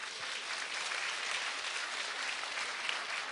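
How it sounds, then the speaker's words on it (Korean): Steady applause from an audience of citizens at a civic round-table meeting in Daegu, a dense even wash of clapping lasting the whole span at moderate distance. "고생하신 우리 시민들께 박수 한번 부탁드릴게요"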